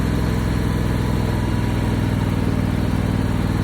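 A John Deere X340 riding mower's engine, just started on choke, runs at a steady idle with a constant low rumble, close and loud with no talk.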